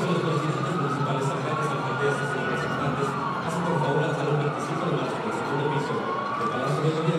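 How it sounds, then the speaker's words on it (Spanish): Sirens on a fleet of new ambulances wail as they pull away in Chihuahua state. The rising and falling tones overlap at a moderate distance over a steady wash of crowd and street noise. "sin duda generó bastante expectativa, sobre todo por el ruido característico de estas ambulancias."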